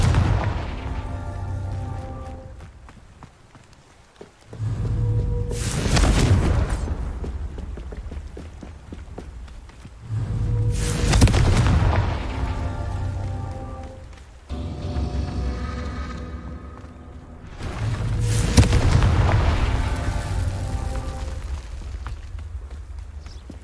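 In Hogwarts Legacy, the Confringo spell sets off three or four heavy booming explosions, each a loud blast with a rumbling tail. Low, droning game sound plays between them.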